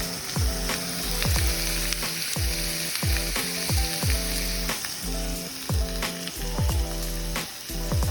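Tomato paste sizzles loudly in a hot pan while frying for corned beef caldereta, with a steady crackling hiss and repeated clinks and scrapes of a spoon stirring against the pan, close and with no talking.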